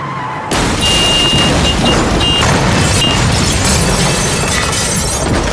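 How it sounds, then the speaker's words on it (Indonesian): A car is rammed from behind and explodes in a film scene, a sudden loud crash opening into a dense, roaring burst of fire and debris that stays loud throughout, with no talking. "Mobil meledak dan terbakar."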